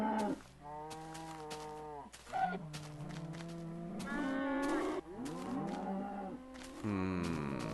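Cows in the Minecraft video game moo several times in a row, drawn-out low bellowing calls one after another with brief gaps, clear and close with no talking.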